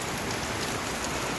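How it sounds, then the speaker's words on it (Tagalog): Heavy rain pours steadily during a rainstorm, a dense, loud, unbroken hiss of drops striking surfaces nearby, with no voices. "So, palakas ng ulan mga kapards. Yan na, lumakas na."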